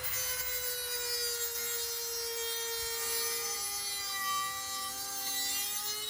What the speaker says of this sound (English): Let's put some Dremel work in.